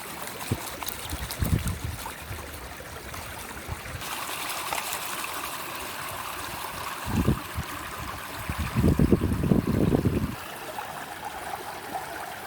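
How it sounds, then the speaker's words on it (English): Gold-panning tailings washing out of a pan as water sloshes and trickles in gentle bursts, with a few stronger pours standing out over a soft, continuous flowing background. "as my tailings rinse away here"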